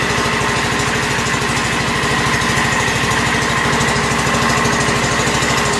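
A John Deere 210 lawn tractor engine idles steadily, close and loud, with a smooth, constant rhythmic putter and no pauses or voices throughout.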